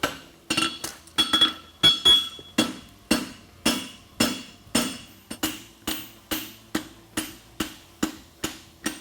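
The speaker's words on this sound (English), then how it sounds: "Use the round part of the hammer to bring the macelot up." A hammer forging a horseshoe rings out on an anvil at a blacksmith competition, about twenty sharp clanging strikes in a steady rhythm, close and loud with brief ringing after each.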